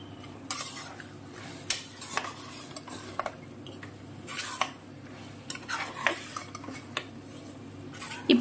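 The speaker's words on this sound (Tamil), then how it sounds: "இப்போ கறியை சேர்த்துட்டு அடுப்பை மீடியம் ஃப்ளேமில் வச்சுட்டு கறியையும் இந்த எண்ணெயிலேயே நிறம் மாறுற வரையும் 5-7 நிமிஷம் நல்லா வதக்கி விட்டுக்கோங்க" Mutton pieces sautéed in oil in a pot for mutton kulambu, with repeated scraping and clinking of a spoon against the metal pot over a faint steady sizzle, close and moderately loud.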